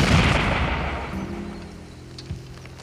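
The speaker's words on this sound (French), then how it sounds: "Vous avez entendu l'explosion." A single explosion in a TV western booms loud and close, then its rumbling decay fades away over a couple of seconds.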